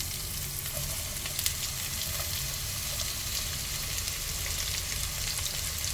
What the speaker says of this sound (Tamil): இதெல்லாம் நல்லா வதங்கணும் எண்ணெயிலே நல்லா வதங்கணும்